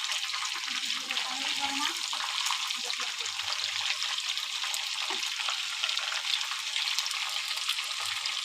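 Small pieces of chicken pakora fry in hot oil, giving a steady, dense sizzle and crackle that stays even throughout, with a faint voice briefly audible beneath it.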